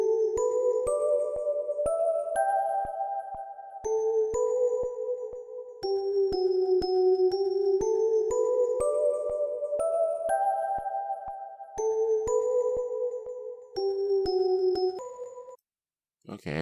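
A simple bell melody from a sad piano-style trap beat plays steadily in stepped tones, with a slow triplet feel, loud and alone, cutting off briefly near the end.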